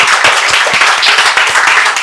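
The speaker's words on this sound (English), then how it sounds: "Clap for Nidhi," A class of students claps loudly and close for a candidate in a class leader election, a fast, dense patter of many hands with distinct individual claps keeping up throughout.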